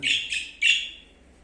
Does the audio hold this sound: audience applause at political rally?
no